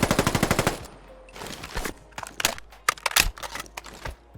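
QBZ-191 rifle reload in Fallout 4, opening with a rapid burst of automatic fire, then a series of close metallic clicks, clacks and rattles of magazine and bolt handling.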